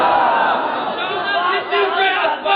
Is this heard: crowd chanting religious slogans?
yes